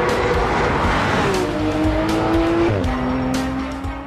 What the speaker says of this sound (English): A right-hand bend, I take it pretty fast, and then move right into a left-hand curve.